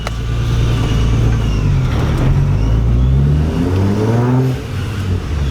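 A supercharged Infiniti G35 with a fueling problem revs and accelerates hard. The engine's loud, close drone climbs steadily in pitch through the gears, dips briefly at a shift, then rises again, with no talking.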